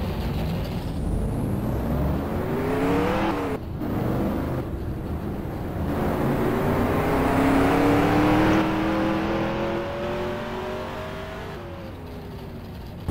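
NASCAR trucks of the Truck Series roar past at Rockingham, engines droning loudly and shifting pitch as they sweep by one after another, a continuous race-track blare with no voices.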